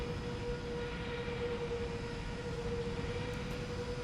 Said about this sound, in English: Just listen to your fucking engines screaming at the moment.